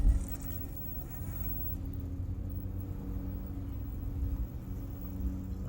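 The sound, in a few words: Furitek brushless RC car climbing a rock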